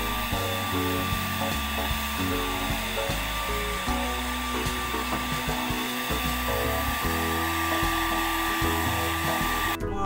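A hair dryer blows steadily and loudly on semi-rebonded hair in a salon, a constant whirring roar with faint background noises underneath.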